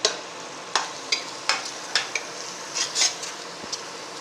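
Ground cinnamon and cloves are fried in a pan for plain biryani, a soft sizzle under a series of sharp metal scrapes and taps from a spoon stirring at an irregular pace, close by.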